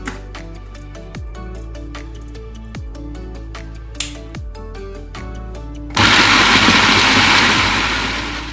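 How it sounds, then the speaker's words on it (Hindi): Electric chopper whirs steadily while chopping garlic cloves, with repeated knocking pulses as it starts and stops, then a louder, denser grinding roar that slowly fades. "अब हम इन कलियों को चॉपर में चॉप करेंगे।"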